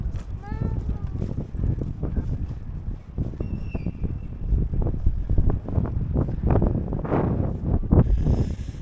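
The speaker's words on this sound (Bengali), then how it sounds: "ভীষণ হাওয়া দিচ্ছে" Heavy wind at the end of a pier in Dover, England, under a cloudy sky, roars and buffets the microphone continuously, loud and gusty, with a voice faintly heard at moments underneath.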